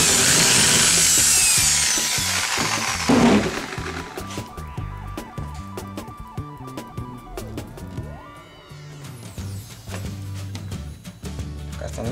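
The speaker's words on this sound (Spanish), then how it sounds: "Voy a hacer un pequeño agujerito para pasarlos por dentro." A power drill boring a small cable hole in a homemade incubator, with a loud whirring burst at first, then intermittent clicks, scraping and handling noises up close.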